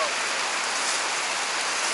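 Steady rain falling outdoors on a day of long-distance running, a dense even hiss that fills the clip from start to finish with no pauses.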